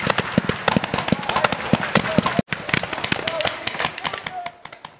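Rapid blank gunfire crackles through a spring ROTC field training exercise ambush, dense bursts of sharp shots, near and loud, with shouting voices mixed in and a brief cut mid-way.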